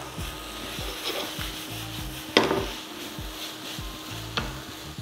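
Vegetarian noodles with sliced horn chili stir-frying in a pan, a steady sizzle under repeated scraping and stirring strokes, with one sharp louder clack of the utensil midway and another near the end; no talking.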